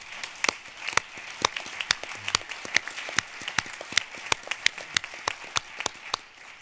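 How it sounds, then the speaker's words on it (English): An audience at a conference gives a round of applause, a sustained patter of many hands clapping with sharp, close individual claps standing out over the crowd, and no talking. "I think a round of applause for all of us"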